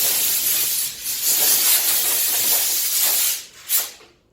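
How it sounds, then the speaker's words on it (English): An air compressor blows debris off a table after a Chinese elm bonsai spring prune, a loud close hissing blast lasting a few seconds, easing briefly then tailing off with a final short burst. "get this air compressor and just blow the table up"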